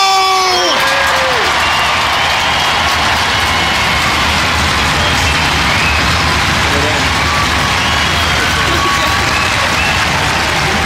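A large crowd at a European Championship final cheers, whoops and claps loudly and continuously, a sustained roar of applause with a few voices briefly audible at the start.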